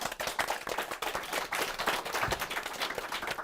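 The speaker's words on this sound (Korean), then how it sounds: "오늘 수고하신 MC분들께 박수 부탁드리겠습니다" Audience applause at a live-broadcast CEO talk show, thanking the MCs: dense, uneven clapping from a modest crowd, moderately loud and steady for a few seconds with no voices over it.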